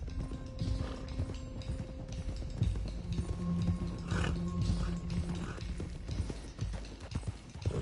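Horse hooves clip-clop steadily in Red Dead Redemption 2 as several horses are driven along, a continuous rhythmic trotting with faint creaks, an occasional snort and background game ambience.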